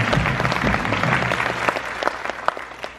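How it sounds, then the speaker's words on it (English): Applause from an audience at a Dollywood theme park restaurant show, a dense wash of many clapping hands held steady for several seconds, with a few sharper claps poking out near the end. "Give her a round of applause,"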